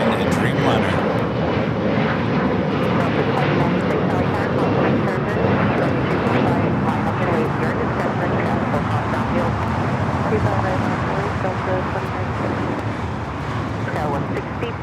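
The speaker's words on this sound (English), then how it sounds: "We should be seeing the ANA rolling down, heading back to Tokyo Narita on the 787-9 Dreamliner." An ANA Boeing 787-9 Dreamliner rolls down the runway at LAX on takeoff for Tokyo Narita, a steady loud jet roar filling the whole stretch, with radio voices talking over it.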